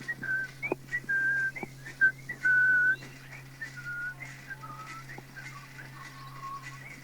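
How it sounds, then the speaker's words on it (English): A man whistles a cheerful tune while riding his bike along quiet country roads in Greendale. Short bright whistled phrases come clear and close over a steady low hum. "he rode his bike along the quiet Greendale roads and whistled as he went"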